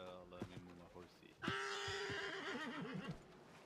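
A horse neighs loudly in a roleplay cowboy video game, a long wavering whinny that rises and trembles for about two seconds, following a few quieter sounds and overlapping some faint background voice at the start.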